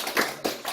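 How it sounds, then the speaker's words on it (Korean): An audience at a lecture claps in a short burst, with two distinct clusters of hand claps close together at moderate loudness. "박수 한번 쳐야 됩니다."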